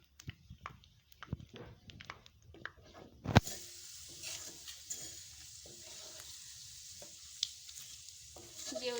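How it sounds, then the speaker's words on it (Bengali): Whole bay leaves and panch phoron fry in hot oil, their sudden loud sizzle breaking out midway and holding as a steady hiss under scattered stirring taps from a spoon in the pan; no one speaks. "আর এখানে দেবো গোটা তেজপাতা দুটো। ভালো করে নেড়ে চেড়ে ভেজে নেব।"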